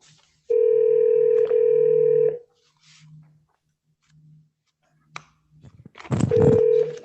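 Speakerphone call, a steady dial tone followed by quick dialing beeps and faint ringback pulses, then a brief louder tone burst near the end, close and clear with little talk.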